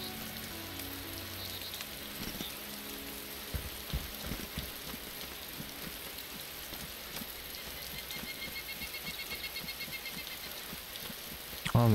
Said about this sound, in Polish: O, ma pieprza, ten deszcz.